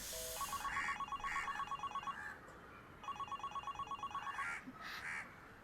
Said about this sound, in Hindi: नंबर बिजी आ रहा है।